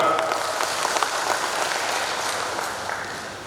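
At a national clan association assembly, many people clap in a steady, moderately distant patter that slowly fades toward the end, with no voices over it.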